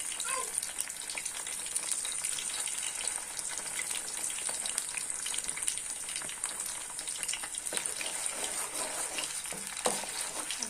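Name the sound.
frying ginger and garlic paste in a pan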